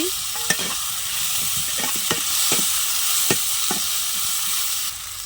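Ginger garlic paste, chopped green chillies, cumin-coriander paste, chopped tomato and onion are stirred in a sizzling pan. A spatula makes repeated scraping strokes, around eight, over a constant loud frying hiss, with no talk.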